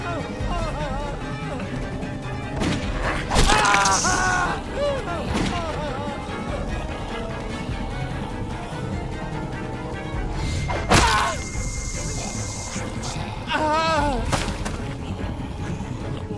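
Gunshots and heavy impacts from The Walking Dead Season 1 video game, scattered loud bangs and thuds mixed with zombie groans and game sounds, mostly under excited speech.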